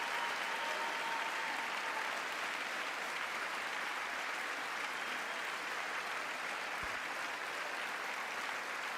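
Sustained, dense applause from a large audience standing in a chamber at the State of the Union, steady and loud throughout with no break.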